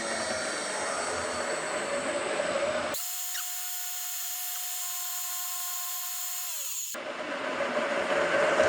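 Machine spindle spinning at 2400 RPM while cutting a grease slot in a pulley pin for a Frick sawmill, a loud steady high whine that holds for several seconds amid a constant machine hum.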